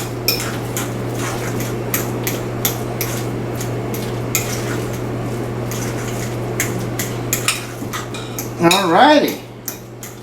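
Boiled potatoes are mashed by hand with a fork and milk in a bowl, a run of close, repeated metal clinks and scrapes on the dish, and at the end a voice speaks briefly.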